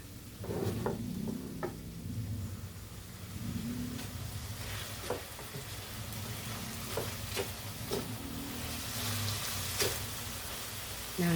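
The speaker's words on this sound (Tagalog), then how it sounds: "ginisa na natin yung ating lahok chicken" Chicken sautéing in a pan with onion, garlic and ginger, a continuous soft sizzle with occasional clicks of stirring over a low steady hum.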